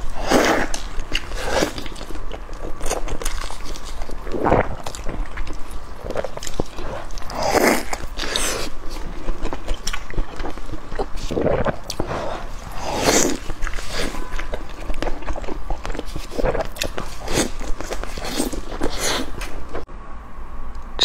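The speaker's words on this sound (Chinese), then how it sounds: "吃包子。" Repeated bites and steady chewing on giant pork dumplings filled with pork and shiitake and eaten with chili oil, close and crisp, with soft crunches and mouth sounds at an irregular pace and no talking.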